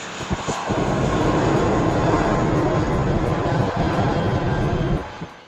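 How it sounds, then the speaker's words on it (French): Airplanes take off from Koh Samui airport near a Chaweng hotel, a loud continuous engine roar that holds steady for several seconds before tapering off. "Les avions qui décollent font un bruit assez important à partir de 8 h du matin."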